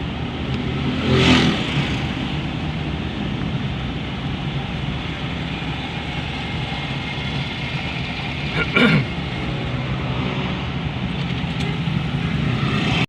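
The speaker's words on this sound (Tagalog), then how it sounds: "Traffic, traffic." Steady road traffic near the cathedral and public market in Gamu, Isabela, heard from inside a moving vehicle: a constant engine drone with two brief louder passing rushes, and no talk.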